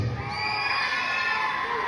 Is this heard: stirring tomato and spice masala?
no